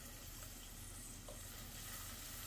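Finely chopped scallions sautéing in a pot for a pastina side dish, a faint, steady low sizzle lasting briefly with no voices over it.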